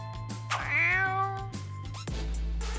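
A cat lets out a drawn-out, rising meow over a steady low hum and a rhythmic thumping background, followed by a shorter clipped meow.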